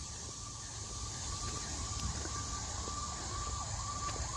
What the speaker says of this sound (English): Been a few sirens out there.